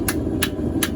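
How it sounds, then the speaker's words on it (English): A hand hammer strikes thin, hot steel while a cooking hook is being forged. Three sharp, bright licks land at even intervals over a steady low background hum, close by, with no voices. "I hold way up on my hammer at this part."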